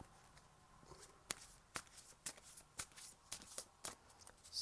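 Tarot cards are shuffled and picked, a quick run of crisp riffling snaps and papery flicks close by, in uneven bursts with no talking.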